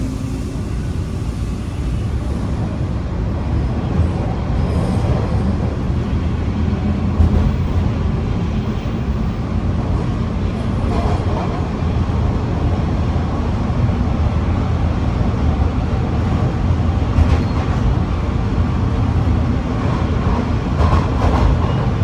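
Toronto TTC subway train on Line 1 or 2 riding toward Lansdowne Station, a steady rumbling roar with faint rail clatter that holds at an even level throughout.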